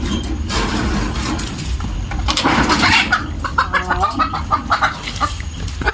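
A chicken clucks and squawks repeatedly up close, agitated bursts over a noisy outdoor background.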